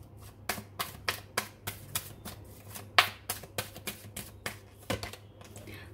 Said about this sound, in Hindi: और कार्ड्स निकालते हैं गाइस